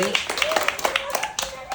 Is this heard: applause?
yes